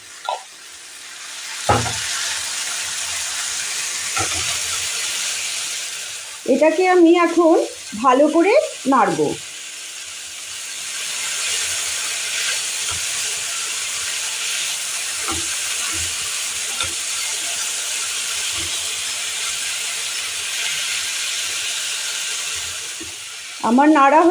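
Radish ghonto, a Bengali dish, fries in a pan over a raised gas flame, giving a steady close sizzle and hiss. A voice speaks briefly over it near the start and again near the end.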